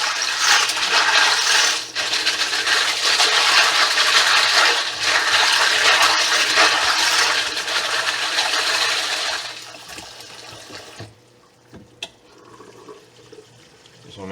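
Cartridge brass being rinsed with water, a loud steady rush of running water with metallic rattling for about ten seconds, then quieter sloshing and a few clinks.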